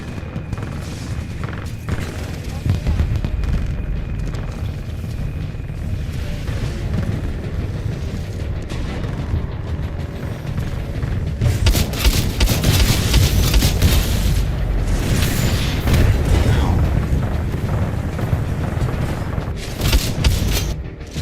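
Mortar titan explosions in a Titanfall 2 co-op match: continuous heavy booms and rumbling blasts that pile into a dense, loud barrage, growing stronger partway through with bright crackling bursts.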